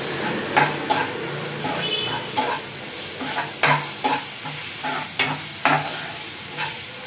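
Ginger onion paste and ground chilli fry in a pan for carrot chitranna, with a steady sizzle and repeated close scrapes and clinks of a spoon stirring against the pan.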